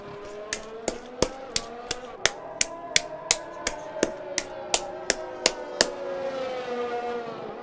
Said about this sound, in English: that's just me clapping my own cheeks.